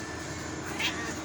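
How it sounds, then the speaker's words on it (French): A formerly stray female cat meows once, a short cry rising briefly out of a steady hiss of background noise. "Kyokyo aussi, c'était un chat itinérant."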